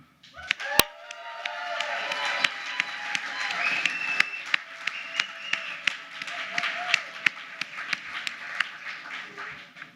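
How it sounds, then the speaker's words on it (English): An event audience at Science Hack Day San Francisco claps and cheers loudly and continuously for several seconds, with sharp individual claps and whoops standing out from the crowd noise and voices mixed in. "If we cheer loud enough, Mirabai can hear us"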